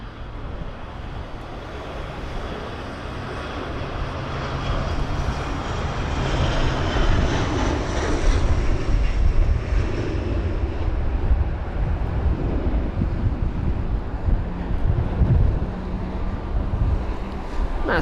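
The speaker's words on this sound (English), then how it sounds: "You can see there that E145 really not needing much runway at all to actually, you know, rotate." A Loganair Embraer E145 jet taking off at London Heathrow during Storm Kathleen, its engines building to a loud, sustained roar over heavy wind buffeting, fading slightly toward the end.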